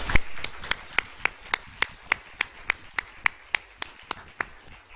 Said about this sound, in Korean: 이 시간 우리의 마음을 모아서 우리 하나님 앞에 큰 영광의 박수를 올려드리도록 하겠습니다.